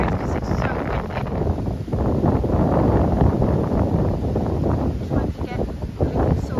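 Strong wind buffets the microphone in steady loud gusts on a narrowboat on the Llangollen Canal in winter, roaring and rumbling throughout with a few soft rustles.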